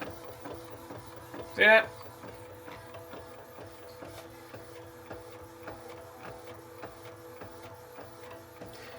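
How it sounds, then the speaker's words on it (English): An Epson 8550 DTF printer prints with a steady mechanical whir and rhythmic ticking from the moving print head, close and even throughout, and a person speaks briefly over it. "It just start printing."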